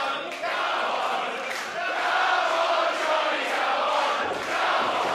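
A wrestling crowd at a WSW World Heavyweight Championship bout fills an arena with steady, loud cheering and chanting that swells and dips slightly without pause.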